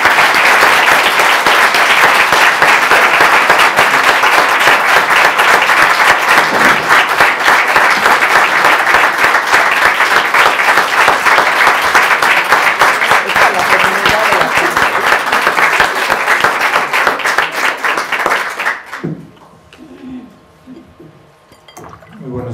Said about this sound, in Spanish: Sin antes darte un aplauso.